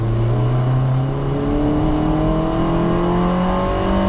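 A Mini Challenge Cooper S race car engine in a video game at Brands Hatch whines loudly and steadily, its pitch climbing through the gears in smooth rising sweeps, close and continuous with no talk.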